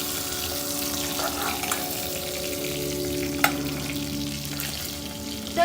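Fish heads frying in hot oil in a wok, a continuous close sizzle with stirring scrapes and a few sharp pops, no talking.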